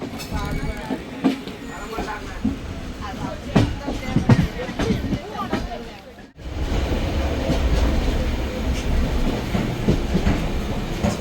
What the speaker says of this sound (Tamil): 1:55 PM தாம்பரம் 6th பிளாட்ஃபார்மில் இருந்து நம்மளோட திருநெல்வேலி சம்மர் ஸ்பெஷல் ஃபேர் வண்டி கிளம்பியாச்சுங்க.